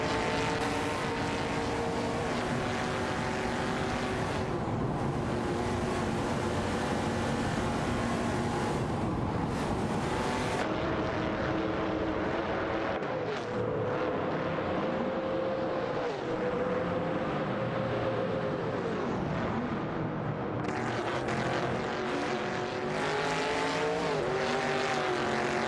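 Cars including a 1971 Ford Torino and a Dodge Charger race in an AI-driven racing video game, a continuous loud engine drone with shifting pitch as cars pass and change gear, with no voices.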